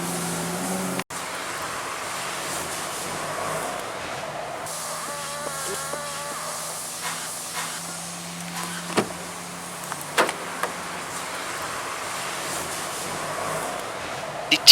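A 2012 Jaguar XF unlocks with a sharp click, followed by soft whirring mechanism sounds, a few light clunks, and the door opening, all fairly quiet against a low background hum.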